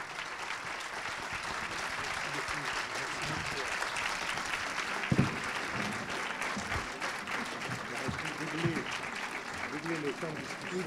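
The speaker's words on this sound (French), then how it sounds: "Il faut applaudir Éric Roussel." An audience at a book event with a French historian and author, held at a prefecture, applauds in sustained, even clapping that fills the room, with voices speaking faintly underneath.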